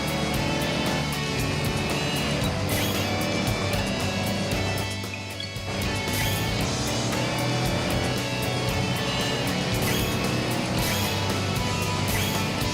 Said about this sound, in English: this car loses traction so easily